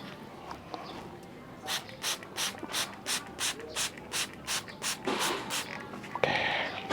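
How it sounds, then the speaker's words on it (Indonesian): A garden sprayer is squirted over plants in a steady series of about a dozen short, evenly timed hissing bursts, close by, ending in a longer rougher rush of spray. "Kalau tidak kita semprot, pohon nanti akan mati."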